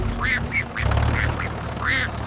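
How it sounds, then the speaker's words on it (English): A cartoon duck quacks in a quick series of loud, nasal calls, about five bursts over a couple of seconds, with a steady music or ambience bed underneath. "Quack! Quack!"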